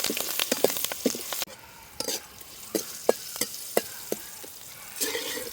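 Green chilli pieces fry in oil with turmeric for a tamarind chutney, a steady sizzle punctuated by repeated scraping stirs of a spoon against the pan, close and moderately loud with no talk.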